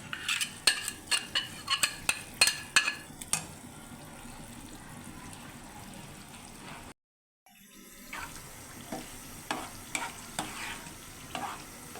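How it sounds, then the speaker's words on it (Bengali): Mustard paste, taro and hilsa fish frying together in a pan while being stirred, giving a steady sizzle broken by repeated scraping stirs, with a short silent gap midway before the stirring resumes. "এখন নাড়াচাড়া করব"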